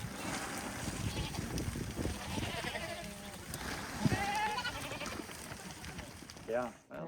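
Goats bleating on a Texas ranch, scattered bleats and rough animal calls heard over steady outdoor noise, with people talking throughout and a short bleat near the end.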